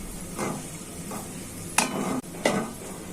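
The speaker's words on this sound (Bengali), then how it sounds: "ভালো করে মরিচটা ভাজা হয়ে যায়।" Dried red chilies fry in hot oil with garlic and onion for a village-style Bengali tempering, a steady sizzle broken by a few sharp scraping stirs of the spoon in the pan, with no talking.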